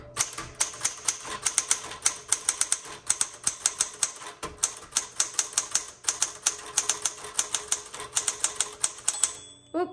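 A 1960s Galaxie II manual typewriter, repainted cherry red, typing steadily in fast bursts of sharp, close keystrokes with short pauses between words, loud and alone with no talking.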